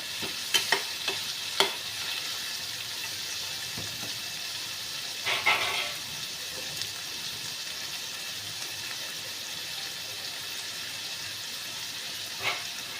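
Steady, soft sizzling of vegetables frying in a pan for vermicelli upma, with a few light clinks from stirring near the start and again near the end.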